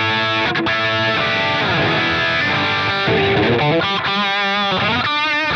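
An electric guitar run through an amp-free modelling preset mimicking a cranked Plexi amp plays distorted chords and single notes, loud and continuous with no talking.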